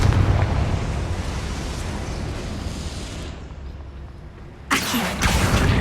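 A Confringo blasting spell explodes in the video game Hogwarts Legacy: a loud, sustained roaring burst fades over several seconds, then a sharp second blast hits near the end.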